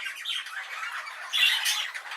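A grey-green exhibition budgerigar squawks continuously in harsh, raspy bursts, close and fairly loud, getting louder toward the end.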